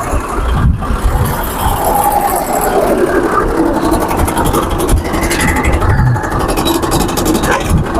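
A Swaraj 735 FE tractor engine runs loud and close on a trial run, a steady rumbling diesel idle with a slight rise in revs and a constant mechanical clatter, no voices.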